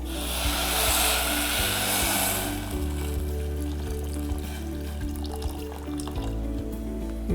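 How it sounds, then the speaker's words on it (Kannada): Water pours with a soft rushing splash onto grated jaggery in a pot. The pour is strongest in the first couple of seconds, then gives way to a quiet trickle over a steady low hum. "ಇದಕ್ಕೆ ಒಂದು ಸ್ವಲ್ಪ ನೀರು ಹಾಕೋಣ"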